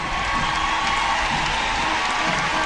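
A street crowd applauds an interagency drill team at a live public parade, steady dense clapping mixed with cheers, held at an even level throughout.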